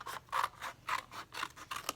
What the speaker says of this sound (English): So I'll go in with my scissors and cut around that shape